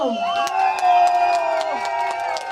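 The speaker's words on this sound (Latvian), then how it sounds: "Un mūsu šīs dienas otrajai finālistei jūsu aplausi, lūdzu!" A beer festival crowd cheers and applauds a female finalist in a contest: loud voices and whoops mix with clapping across a short burst, and shouting rises above the noise.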